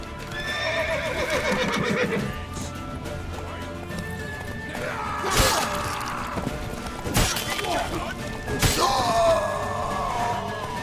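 Horse neighing and whinnying in The Witcher 3: Wild Hunt, with clip-clopping hooves, sharp crashes and shouting voices around it during a tense chase, loud and close throughout.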